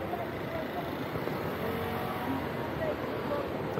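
A car engine runs steadily close by with a continuous broadband rumble, while a person speaks over it as the vehicle drives into them on a road.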